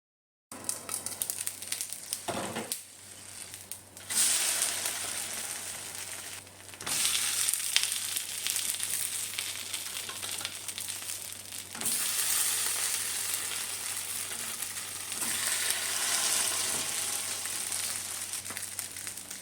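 Small dosas sizzle on a hot, lightly oiled griddle, a continuous close crackle and hiss that swells and eases as batter is added and turned.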